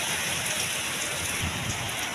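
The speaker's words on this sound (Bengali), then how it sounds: "বৃষ্টিটা যে খুব জোরে হচ্ছে তা কিন্তু নয় কিন্তু ঝড়ের গতিবেগটাই সবচেয়ে বেশি" Steady, dense rain hiss fills the whole stretch during Cyclone Remal, with a low rumble underneath suggesting strong wind; no voices.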